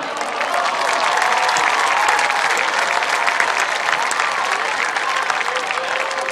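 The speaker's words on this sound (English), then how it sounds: "Let's give them an applause." A large crowd applauds at a high school football game for cheerleaders on the field, a loud, continuous roar of clapping with some cheering mixed in, steady from start to finish.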